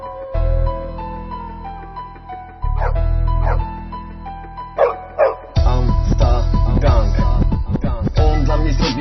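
A dog bark sample from an American Staffordshire terrier, used in a Polish rap song, sounds as a few sharp yips and barks over a loud, heavy beat with dense music throughout.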